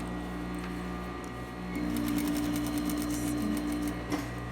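Sewing machine stitching in the ditch along a skirt waistband, a steady close mechanical whirr with a rapid needle rhythm that picks up speed partway through.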